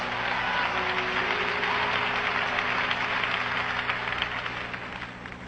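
Congregation clapping hands during a church sermon: a steady wash of applause from a crowd, moderately loud and sustained across the whole stretch, with low hum underneath and no clear speech.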